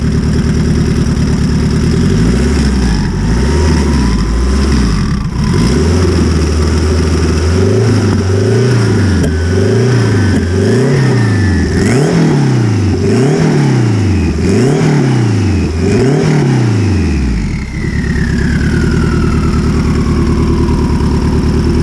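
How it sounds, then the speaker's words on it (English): A Honda CRX engine that sounds rough and uneven, revved repeatedly in a steady rhythm of rising and falling pulls from idle, loud and close, with no talking. "So the car sounds a little bit funny to me right now."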